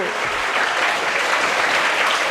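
A studio audience claps loudly and evenly, a short dense burst of applause with no break.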